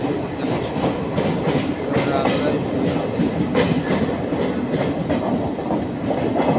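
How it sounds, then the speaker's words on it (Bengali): A train runs through a tunnel in hilly North East India, giving a constant close rumble with rhythmic clickety-clack of wheels on rails. A brief voice speaks under the din. "আমার ট্রেন চলেছে।"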